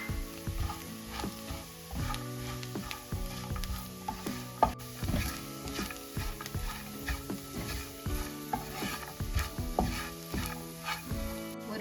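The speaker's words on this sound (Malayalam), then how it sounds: "1 ടേബിൾ സ്പൂൺ മുളക് പൊടി, 1 ടേബിൾ സ്പൂൺ മല്ലിപ്പൊടി, 1 ടേബിൾ സ്പൂൺ ചതമുളക്, ഇത്രയും ഇട്ടിട്ട് നമുക്കൊന്ന് മൂപ്പിച്ചെടുക്കാം" Chilli powder, coriander powder and crushed chilli fry in a pan for beef roast, with a soft steady sizzle under busy, rhythmic scraping and clinking of a spoon stirring close by.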